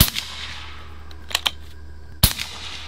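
Shots from a Gauntlet air rifle loaded with Griffin ammo at a target 35 yards away: several sharp, close cracks, a pair near the middle and a louder one toward the end, over a low steady hum.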